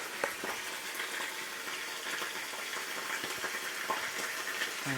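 Red chilies with salt sautéing in a hot pan, a soft continuous sizzle with a few small pops and clicks, close and fairly quiet, without any speech.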